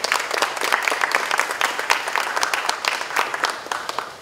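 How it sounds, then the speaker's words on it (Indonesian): A crowd applauds steadily throughout at a forum group discussion, dense clapping at an even loudness with no voices rising above it. "Mari kita berikan tepuk tangan ya."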